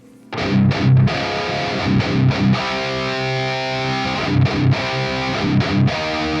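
Heavily distorted electric guitar, a DI signal reamped through the Amped Roots Fluff amp plugin, plays sustained, buzzy chords and riffs, loud and saturated, with no talking.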